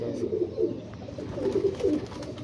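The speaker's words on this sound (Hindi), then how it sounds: "पहली कबूतरी है ये" Low, soft pigeon coos repeat in rolling bursts close by, with a little background rustle and no talking.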